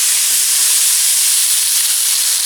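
A continuous hiss and sizzle comes from artichoke hearts being stirred into vegetables in a hot pan for a vegetable paella, loud and close with no pauses.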